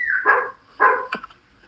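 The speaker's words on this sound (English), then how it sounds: "You can probably hear my dog up there going crazy." Dog barks upstairs in a house, two loud close yelping barks followed by a sharp yip, with brief pauses between them.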